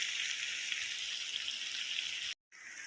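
Chicken curry simmering and sizzling in a pan, a continuous bright frying hiss held steady and close, with a brief gap near the end before it resumes.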